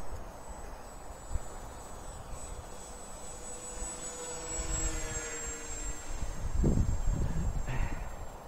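An OV-10 style model airplane flies steadily with a high electric motor whine throughout, swelling louder and rougher toward the end as it passes close.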